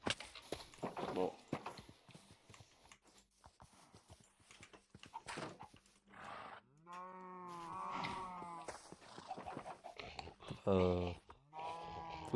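Horses in a Minecraft apocalypse survival world, with several harmonic neighs and whinnies alongside clattering hoof-like clicks, spread over the stretch at moderate loudness.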